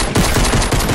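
A brief, loud burst of rapid automatic gunfire in Fortnite, a few quick shots in under a second, close and alone.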